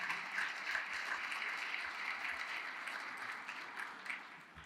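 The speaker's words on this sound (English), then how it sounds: "Please join me in a round of applause for all of them." Soft, distant audience applause at a business women's awards ceremony, a steady patter of many hands clapping that gradually thins toward the end, heard alone without talk.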